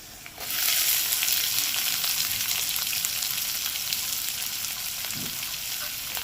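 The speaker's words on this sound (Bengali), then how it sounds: "রসুনটা পুরো বাদামি হয়ে গেছে এবার দিয়ে দিচ্ছি পেঁয়াজ" Small finely chopped onions frying in hot oil with garlic already browned, a loud continuous sizzle that starts abruptly and holds steady, with faint stirring.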